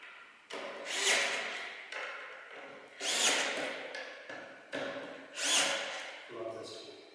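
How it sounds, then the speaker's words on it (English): A DeWalt DCF682 cordless screwdriver whirs in three or four short, close bursts, each rising and cutting off, with brief gaps and faint knocks between runs. "This is the DCF682 cordless screwdriver"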